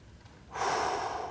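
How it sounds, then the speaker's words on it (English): A deep breath taken during a stretch in a strength workout session, a single long, loud airy exhale that begins abruptly halfway in and sustains to the end. "Nice deep breathing."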